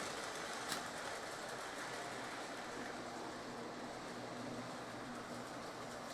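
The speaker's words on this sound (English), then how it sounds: "When the Amtrak comes in and passes by, I think we'll shut it down." A reconditioned Lionel O gauge model Amtrak train runs past on a relay-controlled 5x8 layout, producing a faint, steady rolling rumble and hum of small wheels on track.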